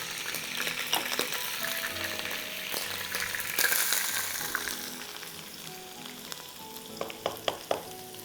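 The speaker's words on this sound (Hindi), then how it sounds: "अब हम इसमें डालेंगे अनियन, प्याज हमें डालनी है इसमें चॉप 2" Chopped onions frying in butter and oil in a pan, a steady broadband sizzle with occasional clinks and scrapes, closer bursts near the end, no talk.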